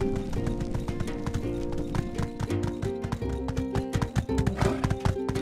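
Horse in the farming-life game My Time at Sandrock: rapid clip-clopping hooves with repeated neighs and whinnies layered over a tonal game soundtrack, close and fairly loud throughout.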